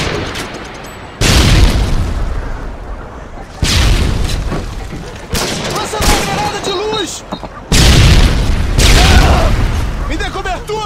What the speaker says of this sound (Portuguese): Lançando uma granada de luz.